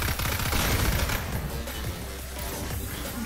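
Gunfire in the video game Mini Militia 2, with a dense, loud burst of rapid shots and blasts that thins into lighter, scattered firing.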